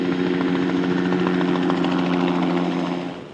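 A helicopter close by in an industrial setting with a steady, loud rotor drone and engine whine, holding constant before fading slightly at the end.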